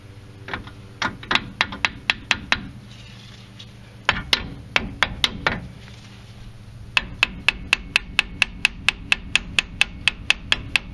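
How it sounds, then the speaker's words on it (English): Hammer lightly tapping a brake caliper on a 2009-2014 Kia Soul during a front brake pad and rotor change, a rapid series of sharp metallic taps in bursts, close and loud, with a steady run of evenly spaced strikes at the end. "This caliper is going to be a little bit tough to get out, so I'm going to tap it with a hammer."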